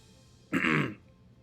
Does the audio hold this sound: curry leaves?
no